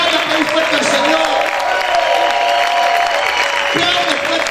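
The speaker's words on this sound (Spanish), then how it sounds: "¿Cuántos pueden gritar y aplaudir fuerte al Señor?" A church congregation claps and shouts loudly in praise, a dense, sustained roar of applause with raised voices throughout and a strong voice calling out over the crowd.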